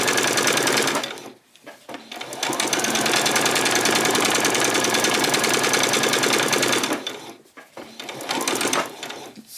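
Sewing machine running fast tacking stitches along skirt fabric, a loud steady mechanical whirr in two long bursts with a brief pause between, close and without talk.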